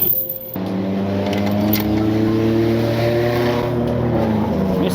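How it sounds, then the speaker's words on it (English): Mazda Miata roadsters with no exhaust fitted drive along the road, a loud, raspy, close engine drone that starts abruptly after a brief lull and holds steady. "Miatas going up down the road, no exhaust."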